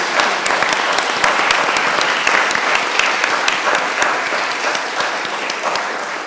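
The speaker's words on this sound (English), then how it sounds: "Let's have a wonderful round of applause for Sophia Elijah." An audience gives a panel speaker a round of applause, a loud, steady, full-room ovation of many hands clapping continuously throughout, tapering only slightly at the end.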